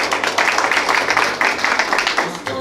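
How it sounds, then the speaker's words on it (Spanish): A crowd at a 50th birthday party applauds a guest, a dense, steady patter of many hands clapping close by, lasting a few seconds with faint voices mixed in. "Fuerte los aplausos para él"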